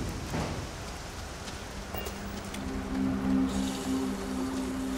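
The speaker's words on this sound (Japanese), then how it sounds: "腐食性の液体雨。" Corrosive liquid rain falls steadily in the video game Starfield over a polluted military outpost, a constant hiss of drops with a faint low tone joining partway through, and no talking.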